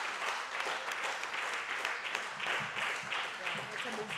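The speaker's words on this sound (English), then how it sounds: "I think that needs a clap." An audience at a theatre event in Kenya claps in a faint, steady patter lasting several seconds, with some voices mixed in.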